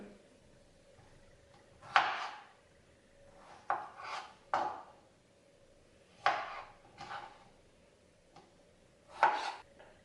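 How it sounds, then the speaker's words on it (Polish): A knife chops fresh strawberries into small cubes on a board for a quick mascarpone dessert, giving sparse, faint taps and short clustered cuts spaced a second or two apart in a quiet kitchen. "Część z nich pokroimy na kosteczkę, resztę zmiksujemy."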